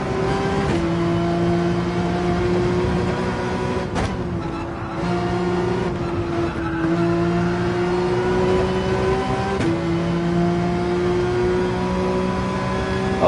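A race car engine at full throttle in third gear in Gran Turismo 7, a loud, steady whining roar that climbs in pitch, drops sharply at a few brief gear shifts, then climbs again, with no voices over it.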